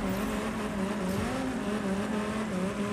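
A car drifting in Rocket Racing, a steady loud engine whine holding pitch with a brief dip and swoop, continuous and close with no talking.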